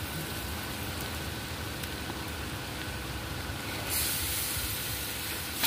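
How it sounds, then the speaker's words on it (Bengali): Garlic paste frying with lightly browned onions in oil, a steady hissing sizzle that swells louder near the end, with faint scattered crackles and no voices. "এবার রসুন বাটাটা দিয়েও আমি ভালো করে খানিকটা ভেজে নেব"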